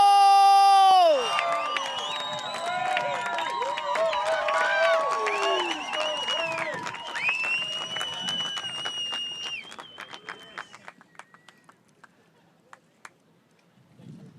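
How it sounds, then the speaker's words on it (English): A large crowd applauds and cheers for a surfer at the Nazaré big wave surfing championship. Loud tonal horn-like blasts open the clip, then a dense wash of clapping and whoops swells and gradually thins toward the end. "I want to hear a huge Nazaré round of applause representing France."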